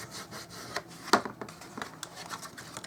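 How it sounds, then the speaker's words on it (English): Folded paper card stock for a Stampin' Up craft is burnished with repeated short rubbing and scraping strokes, close and fairly quiet, with one sharper scrape partway through. "give them a burnish"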